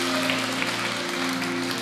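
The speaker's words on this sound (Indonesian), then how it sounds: "Sekali lagi tepuk tangan bagi Tuhan Yesus yang berjanji ya dan amin." A church congregation at an IFGF Jogja Sunday service claps continuously, an even, crowded patter of hands blended with held organ-like chords, with no pauses.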